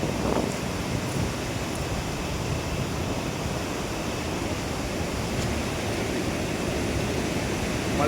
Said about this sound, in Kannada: ನೀರಿನ ಅಬ್ಬರ ಐತೆ ಸ್ವಲ್ಪ